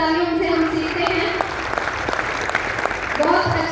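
At an honour ceremony, an audience claps in a steady burst that stays under a speaker's voice, which keeps talking through the applause.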